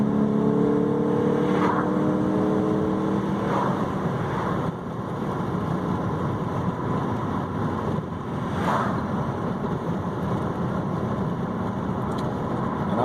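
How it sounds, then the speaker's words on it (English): Engine of a 2014 Honda Accord Sport fitted with a K&N Typhoon intake, heard from inside the car with a window cracked: a steady droning hum with wind rush and a few brief rising surges. "you can definitely hear it with the window cracked"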